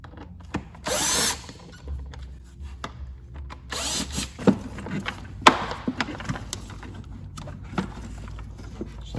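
A power driver spins out Torx T25 screws on a Mini Cooper during a spark plug and air filter job, several short whirring bursts with quieter handling noise and clicks between them, close by.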